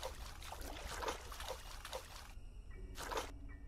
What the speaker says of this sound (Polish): Nie wiem, czy mnie słyszy babka, jak idę wodą.